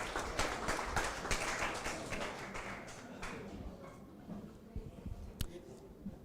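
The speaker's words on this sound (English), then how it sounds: "Round of applause for yourselves." Audience applause fills a conference hall at a talk in Tallinn, Estonia, with dense, fairly loud clapping that thins and fades over a few seconds into scattered claps.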